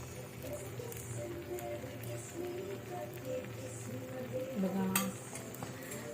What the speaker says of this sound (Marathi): हा मालपोहा इकडे शिजत आहे काकू आता तूप टाकत आहे